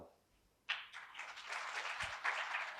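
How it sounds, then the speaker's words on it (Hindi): After a quiet moment, an audience at a UrIDentity'23 talk in India breaks into applause that swells quickly and continues as a dense, steady clapping wash, fairly loud and close. "अब ताली मारो"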